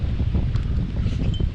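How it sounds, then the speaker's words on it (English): Wind gusts over an open hillside, a steady buffeting rush that batters the microphone with low rumble and no voices. "Oh, it's windy."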